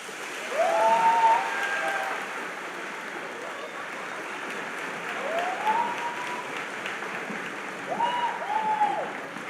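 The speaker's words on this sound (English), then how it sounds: "Please rise and give them a round of applause." Applause from families and guests at a middle school graduation ceremony for parents and guardians, a soft, continuous patter of clapping in a large space, with a few faint whistles or tones rising above it.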